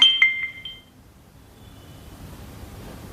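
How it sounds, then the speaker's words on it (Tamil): A ladle stirring bottle gourd, drumstick and brinjal in a sambar pot gives a few bright metallic clinks at the start, then fades to a faint low hiss. "இப்போ கரண்டி வச்சு சும்மா ஒரு தடவை கிண்டி விடுங்க"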